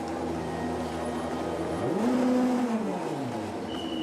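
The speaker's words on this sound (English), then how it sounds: "And Nico Müller parks up then, the winner of the final race of the season" A DTM race car at the Hockenheimring rolls down the pit lane and parks. A steady engine drone rises into a brief revving swell near the middle of the clip, then settles again. No one speaks.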